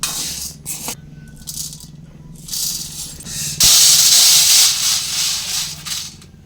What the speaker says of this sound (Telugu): మినపగుళ్ళు అయితే వేగిపోయి కదా ఇప్పుడు వేరే ప్లేట్లోకి తీసేసుకుందాము